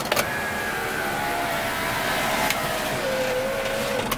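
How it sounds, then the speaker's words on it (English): A 1998 Toyota Camry XLS power window motor whirs steadily for several seconds as the window rolls up, a thin rising whine over low engine rumble, close by. "These windows rolled up though."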